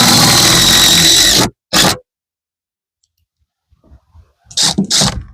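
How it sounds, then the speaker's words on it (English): A power drill drives 3-inch screws into a vinyl prehung window frame inside a small 8x8 shed: a loud, close whir, then a short second burst, a quiet pause with faint handling noises, and two more quick bursts. "I'm going to put some more screws in this because these 3-inch screws are going to definitely hold this window in place"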